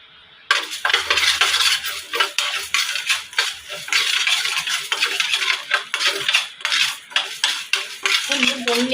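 Ingredients being sautéed in a metal pan, a spatula scraping and clinking against it in quick rhythmic strokes, close and fairly loud, with a faint sizzle underneath and no talk.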